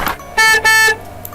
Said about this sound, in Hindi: अब ये कार का अलार्म है